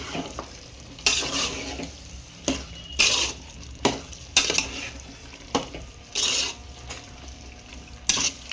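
Chicken being stirred in a pot for white chicken biryani, with a string of scraping, sizzling stirs at irregular intervals, each a short clattering burst close by over a low steady frying hiss.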